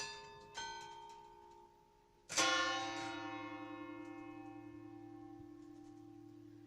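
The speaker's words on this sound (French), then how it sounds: "du son de leurs cloches, les Picantins rythment déjà la vie compiègnoise" Church bells ring in Compiègne: a lighter chime sounds first, then a heavy bell is struck loudly and its deep, humming tone rings on and slowly decays, close and clear with no voices.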